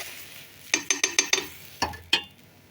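A spoon stirring spinach and tomatoes in a metal pan: a quick run of five bright clinks against the pan, then two more scraping knocks after a pause, close and clear with no talk.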